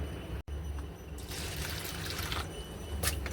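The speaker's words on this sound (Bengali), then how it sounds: "এইদিকে মুসুর ডালটা বসাবো, তাই মুসুর ডালটা ধুচ্ছি।" Water splashes and trickles steadily while masoor (red lentil) dal is rinsed, a close, continuous pouring and sloshing sound with brief clinks near the end.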